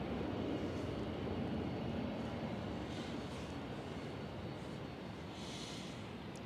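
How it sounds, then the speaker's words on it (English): Airliner registered HLYI departs Manchester Airport on flight 909 to Fuerteventura, giving a steady, broad jet roar that holds evenly for several seconds at moderate distance, with no voices over it. "HLYI departing there with flight 909 to Forteventura"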